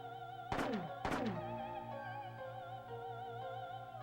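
Two sharp, punchy gunshots about half a second apart ring out in the Parasite Eve video game, followed by steady electronic game music with a low pulsing beat.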